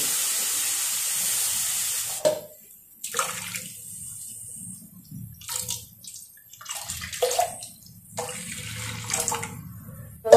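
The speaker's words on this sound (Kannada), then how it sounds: "ನೀರು ಹಾಕ್ಬಿಟ್ಟು ಇದನ್ನ ಕುದಿಲಿಕ್ಕೆ ಬಿಡಬೇಕು" Water splashes and pours in several bursts into a pan of ground beetroot juice, with quiet pauses between the pours.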